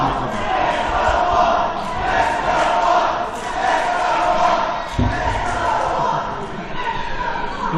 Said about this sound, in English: The West Newton crowd is thrilled that Estaban made it here tonight.